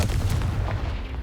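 A Confringo blasting spell cast in Hogwarts Legacy: a dense, rumbling burst of booming, explosive energy filling the whole moment, heavy in the low end with crackling texture on top, with no voices.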